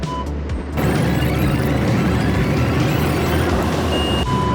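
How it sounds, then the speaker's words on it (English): An automatic car wash runs over an electric vehicle, a loud steady rumble and whir of machinery with spraying water heard from inside the car, with a few brief electronic beeps. "I don't really know what people are expecting to happen to an EV going through a car wash"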